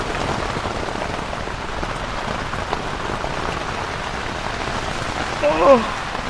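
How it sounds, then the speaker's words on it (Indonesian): Heavy, dense rain drums steadily on a camping tent, with the wind shaking it, a continuous close patter with a faint voice and a brief thump near the end. "Masih belum berhenti rupanya hujan ya."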